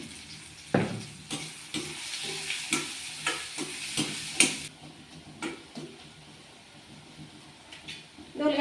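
Chopped onions with green chillies and a pinch of salt fry in a pan for flattened-rice poha upma, with a spatula scraping in quick rhythmic strokes over a soft, continuous sizzle.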